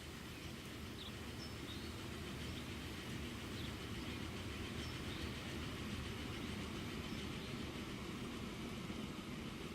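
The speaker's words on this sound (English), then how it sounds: "That's quite the train." A long train in the Transport Fever video game rumbles steadily along the tracks with a continuous dense clatter and no voices.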